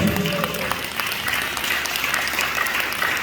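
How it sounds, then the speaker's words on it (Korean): A congregation at a Korean church service marking Liberation Day gives steady, sustained applause in a large room. The clapping is moderately loud and dense from start to finish. "하나님 앞에 영광의 박수 한번 드립시다."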